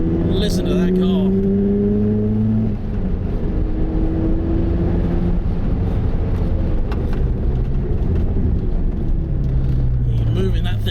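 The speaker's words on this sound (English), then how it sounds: "I've got an Exige Cup coming up behind me" A Lotus Exige Cup race car drives on a race track near a Mazda RX-7. Loud, sustained engine drone shows pitch shifts as revs rise and fall through the whole stretch, blended with the cabin engine noise.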